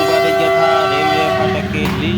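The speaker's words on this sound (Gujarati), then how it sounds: "જો આ ટ્રેન નીકળી છે" A train rolls past a railway level crossing close by, loud and steady, with a sustained horn tone running through the whole passage.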